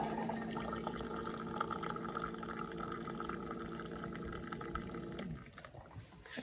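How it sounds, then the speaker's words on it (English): A hot water dispenser pours a continuous stream into a pot while dumplings are being cooked, a close, steady rushing fill that carries on for several seconds before tapering into quieter trickling and drips. "It's just hot water dispenser."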